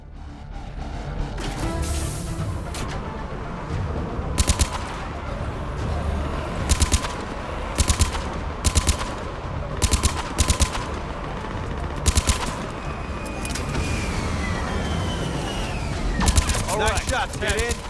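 Gunfire in the video game Mass Effect 3, a battle on Earth at a swarmed landing zone, with dense continuous firing and repeated sharp bursts of shots over a loud combat din, voices speaking at times.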